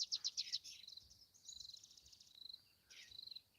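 Small birds chirping outdoors around sunset, quick bright trills in bursts with short gaps, fairly faint and distant, no talking.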